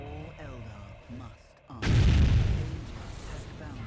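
Eldar super weapon in Dawn of War firing: after a quiet stretch with faint background game sounds, a sudden loud, broad booming blast erupts and roars for about two seconds before easing off into a rumbling tail.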